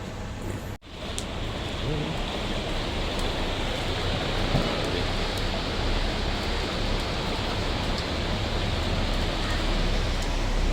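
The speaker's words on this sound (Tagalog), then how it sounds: "malakas talaga ulan matagal din natapos yung ulan ngayon" Heavy rain pours steadily down, a dense unbroken hiss at close range that continues evenly throughout, with one brief dropout near the start.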